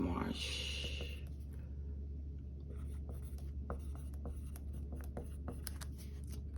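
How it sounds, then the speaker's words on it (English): Pen scratching out a name on a cellophane poly bag, several quick strokes close by, with a voice talking softly underneath. "write the name on the cellophane bag or poly bag or whatever you want to call it"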